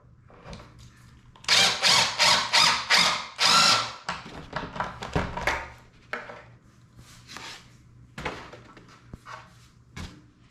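A power drill drives pocket screws into a wooden bed frame, with several loud, short bursts of whirring in quick succession, followed by quieter clicks, knocks and handling sounds of the wood.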